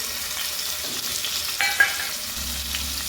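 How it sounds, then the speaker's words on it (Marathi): Chopped tomato frying in oil, a soft close sizzle with light stirring clinks and scrapes over a low steady crackle. "टोमॅटो चांगलं तेलात तळून घेते"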